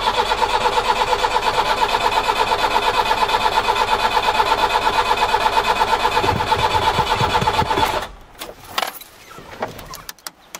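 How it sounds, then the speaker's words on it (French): An Iveco van engine cranks steadily for about eight seconds without catching, a continuous rhythmic starter whir with the accelerator floored and no preheating, ending in scattered clicks and knocks once the cranking stops. "Je vais mettre pied au plancher et je fais tourner."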